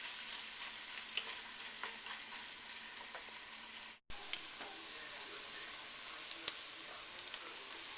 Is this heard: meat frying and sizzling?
yes